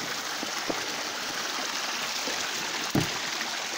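A steady, full rush of falling water fills the scene continuously, with a few faint knocks and splashes breaking through.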